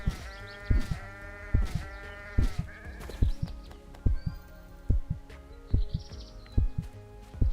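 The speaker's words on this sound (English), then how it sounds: "Okay, let's go kill more sheep." Sheep bleat a few times in a video game, small animal calls over steady rhythmic thumping music beats.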